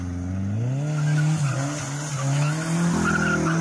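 A carbureted Chevrolet Chevette skids with long, loud tire squeals that rise and bend in pitch over a revving engine, heard nearby with no speech.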